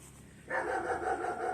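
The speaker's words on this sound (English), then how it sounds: "Oh, the dog is out." A dog barks outdoors in a steady, fairly distant burst that starts abruptly and carries on under quiet background ambience.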